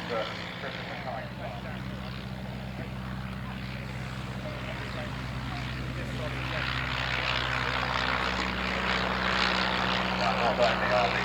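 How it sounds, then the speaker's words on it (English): A vintage de Havilland DH.51 propeller aircraft flies at an evening air display, its engine drone growing gradually louder as it passes, with a commentator's voice heard over it. "Yes, Dodge Bailey, our chief pilot, is flying the DH-51"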